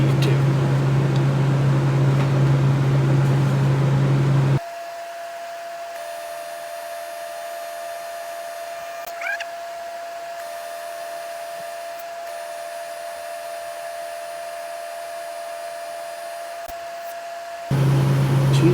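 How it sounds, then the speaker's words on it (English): Steady electric hiss of an arc welder filling a final hole on an Uzi trunnion, loud and even throughout with a sharp drop in level midway, no talk. "Weld this final hole up."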